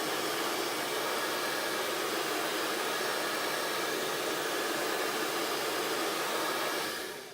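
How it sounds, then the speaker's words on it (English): A blow dryer on its cold setting drying craft paper: a loud, steady whoosh of air running without a break for several seconds, then cutting off at the end, with no one talking. "using a cold blow dryer on my stuff."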